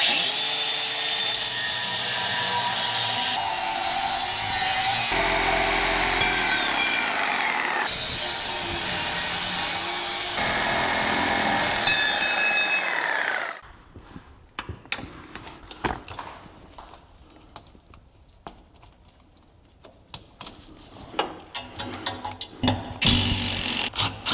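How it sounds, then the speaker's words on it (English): Exhaust collectors are cut off with a power tool, giving a loud, steady, close grinding whine for several seconds that then breaks into scattered clanks and rattles. "But let's get those cut off, and let's get these taken off."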